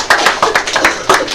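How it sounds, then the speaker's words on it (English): A small class in a physics lecture gives Joe a round of applause: a few distinct, close hand claps in uneven rhythm, short and sparse rather than a full crowd. "let's give a round of applause to Joe"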